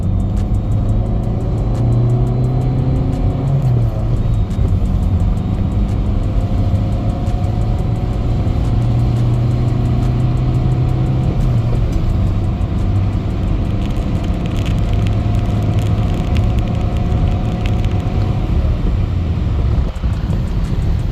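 A loud, close car engine with its EGR deleted drones continuously, its pitch climbing and dipping as it revs and accelerates, with no voices.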